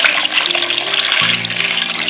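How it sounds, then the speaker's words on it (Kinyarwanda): Water poured into a pot of guavas for jam, a steady close splashing stream that runs unbroken and deepens in pitch as the pot fills. "niturangiza dushyiremo amazi"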